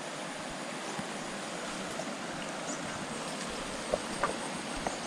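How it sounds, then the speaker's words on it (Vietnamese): Mountain stream flowing at a crossing point, a steady broadband rush of water that is fairly soft and continuous, with a few small splashes toward the end. "hôm nay là phải lội suối để sang bên nhà khách"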